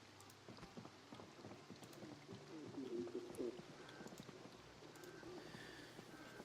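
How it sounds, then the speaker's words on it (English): Steady rain patters across a Project Zomboid scene at low level, a continuous wash of drops with faint low rumbles underneath and no talking. "It's raining."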